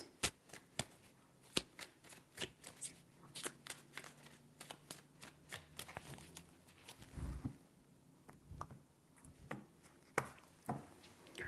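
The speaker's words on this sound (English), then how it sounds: "Three shuffles." A tarot deck is shuffled close up in a long run of quick, crisp card slaps and riffles, irregular but continuous, with a brief low thump in the middle.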